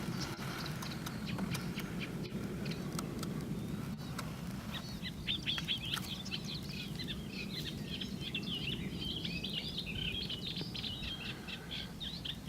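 A willow warbler sings in the countryside of the South Downs near the Amberley Brooks, where cattle graze. High, thin chirping phrases come from a distance over a steady outdoor hum, growing busier partway through.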